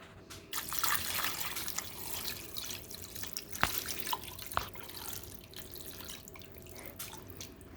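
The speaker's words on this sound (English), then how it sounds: "And then I'm going to add the water." Water pours into a pot roast in a cooking pot, a steady splashing trickle at moderate level, with a couple of sharp drips along the way.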